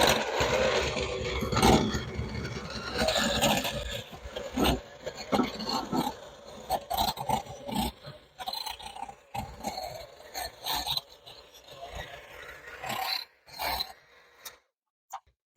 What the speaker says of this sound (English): I got my hand mixer out, and I'm going to do that and blend it well.